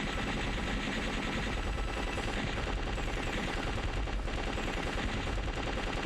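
Enemy spread shots fire in the shoot-'em-up Legend of the Steel Empire, a dense, continuous rattle of rapid gunfire bursts, loud and unbroken for several seconds with no talking.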